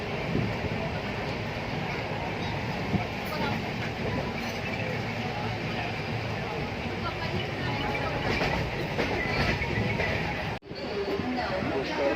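Steady rumble and rattle of a moving passenger train just past Kalamboli station fills the clip, close and continuous, with voices faintly audible inside.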